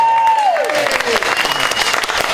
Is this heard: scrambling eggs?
no